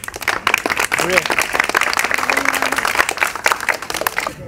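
Audience applause at a school entertainment program of songs and comedy in Guwahati, with dense sustained clapping from a crowd throughout, steady and fairly loud, and brief voices in the mix.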